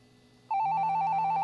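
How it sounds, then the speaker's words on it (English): A cell phone rings in the video game Shadows on the Vatican, a steady warbling electronic ringtone that starts abruptly after a short lull and keeps ringing loudly and alone. "Your cell phone is ringing, and you must answer this call."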